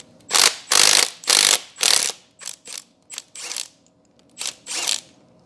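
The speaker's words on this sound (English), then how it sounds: "use a socket to turn it out of there" Ratcheting socket wrench turning out a nut welded onto a broken stud on a GSR-swapped Honda Civic EG hatch, a series of close, loud clicking bursts, four longer pulls then shorter quick strokes.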